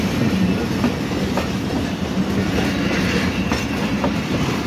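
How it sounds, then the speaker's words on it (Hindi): A passenger train, the Jaffar Express, rumbles steadily past at close range as it arrives at Mach railway station in Pakistan, its wheels clacking rhythmically over the rails in a continuous, loud roll with no voices. "अब जाफर एक्सप्रेस का अराइवल हो चुका है मच्छ रेलवे स्टेशन पर"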